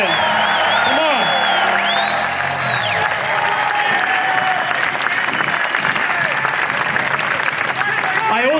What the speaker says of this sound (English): Can I get a big cheer for those members?